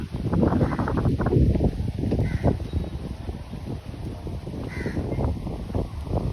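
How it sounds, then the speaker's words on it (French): Birds calling from the trees around a beach hotel in Diani, Kenya, with harsh crow-like caws and chatter against strong wind buffeting the microphone, fairly loud and continuous over several seconds with no talking. "Il y a beaucoup d'ombre, beaucoup d'arbres, beaucoup d'oiseaux dans les arbres."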